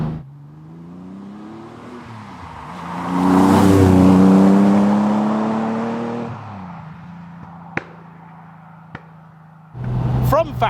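A TVR Tuscan S with a 4.5-litre straight-six revs up to a loud, rising howl that peaks and then fades away. A couple of sharp clicks follow, and then a new burst of engine noise.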